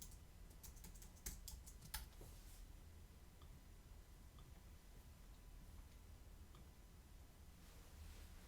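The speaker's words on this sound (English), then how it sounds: "If I type in" Faint clicks of typing on a computer keyboard, a quick cluster of keystrokes at the start then sparse light taps over quiet background hiss.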